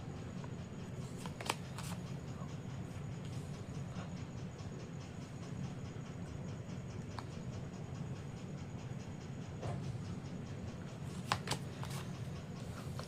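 A deck of tarot cards is shuffled and handled up close. Quiet, soft riffling and brief card snaps come and go over a low background hum, with no speech.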